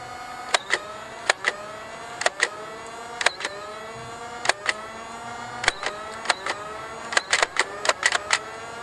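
A motorized Nerf blaster loaded with foam darts whirs up repeatedly with a rising flywheel whine, each spin-up broken by sharp snapping shots, roughly a dozen in irregular bursts, close and fairly loud with no talking.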